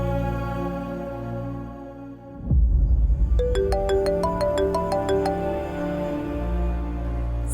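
Phone ringtone for an incoming call plays a repeating electronic melody, loud and close over a low steady background hum, lasting several seconds.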